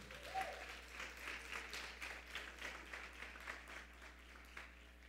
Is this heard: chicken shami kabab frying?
no